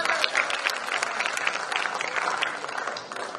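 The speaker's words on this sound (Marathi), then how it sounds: "एकदा जोरदार टाळ्या होऊन जाऊ देतात त्यांच्यासाठी" An audience at a young poets' gathering claps for a poet, with dense continuous applause at moderate volume that fades slightly toward the end.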